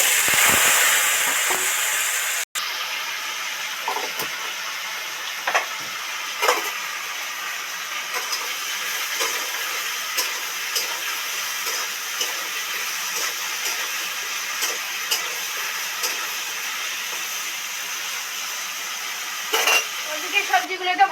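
Radish, taro and spinach frying in a wok, a steady close sizzle with occasional scraping stirs, louder at the very start and continuing throughout without talking.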